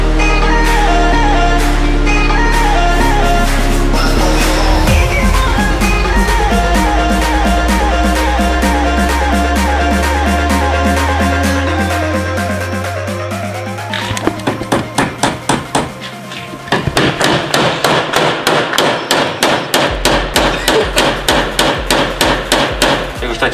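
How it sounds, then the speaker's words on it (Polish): Drilling holes and riveting metal on a BMW E36 drift car: repeated metallic hammering and tapping rings out, steady at first, then a fast run of sharp, loud blows toward the end. "Nawiercamy kilka otworów, nitujemy i no i tyle."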